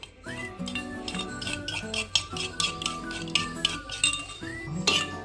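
A spoon stirring a flour coating paste with salt and food colour in a bowl, with repeated clinks and scraping against the bowl in an uneven rhythm, close and clear with no talking.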